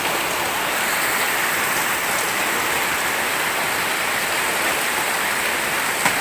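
Heavy rain pours on a farm, a dense, even hiss of drops that stays loud and constant for about six seconds with no voices.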